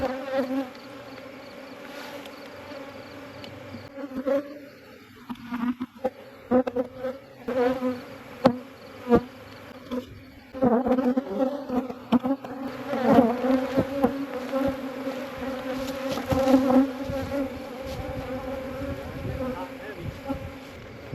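A dense swarm of honey bees buzzes steadily and loudly all around during a honey harvest, with individual bees droning past close by.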